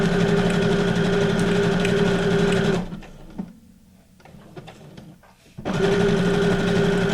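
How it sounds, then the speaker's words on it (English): A sewing machine stitches down a paper element for a junk journal, a loud, steady mechanical whir that stops for a few seconds of quieter rustling, then resumes at the same rapid pace. "when you're using your sewing machine and you use it a lot, you can really like pick up on the noises that your machine makes"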